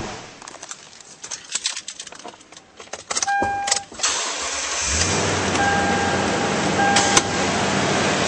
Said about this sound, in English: And now we'll start up this vehicle.